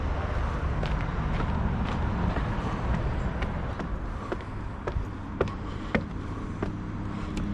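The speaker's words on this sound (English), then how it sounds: "Rather a lot of traffic noise here." Road traffic rumbles steadily beside a canal bridge on a disused stretch of the Oxford Canal in Rugby, a continuous low drone of passing vehicles with wind noise and a few sharp knocks near the end.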